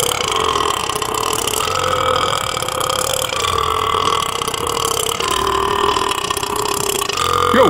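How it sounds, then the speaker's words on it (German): A loud, drawn-out burp from a player during an amateur football match against former professionals, rumbling steadily and close for several seconds with no break. "der rülpst den Rauch einfach zur Seite"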